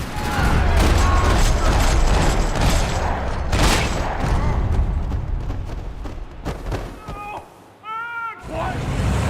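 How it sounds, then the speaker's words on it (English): Rapid bursts of gunfire rattle in a parking lot in the video game Max Payne 3, over a loud, dense background with booms, easing toward the end where a brief voice-like call breaks through. "Another parking lot rattling with gunfire."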